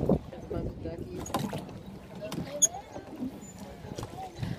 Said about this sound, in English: I paddled, rowed, whatever you say.